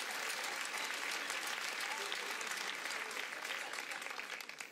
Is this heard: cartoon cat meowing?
no